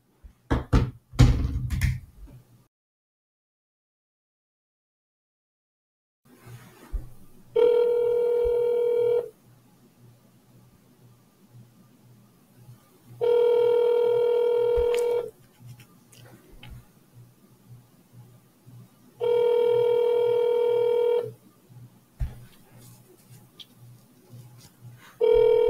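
A telephone rings out during a call to a dumpster rental business, with four long, evenly spaced ring tones separated by quiet gaps after a few clicks at the start.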